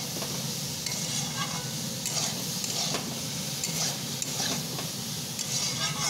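Vegetables seasoned with turmeric powder sauté in a pan with a steady, close sizzle and frequent scraping and stirring clatter throughout.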